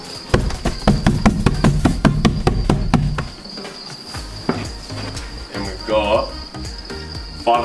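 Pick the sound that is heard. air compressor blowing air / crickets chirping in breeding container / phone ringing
crickets chirping in breeding container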